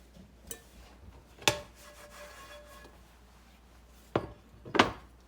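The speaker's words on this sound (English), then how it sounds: "I'm just going to take a towel, a dish towel, dry them out good" Cast iron skillets are dried with a dish towel, producing a soft continuous rubbing with a few sharper scrapes and knocks, close and quiet.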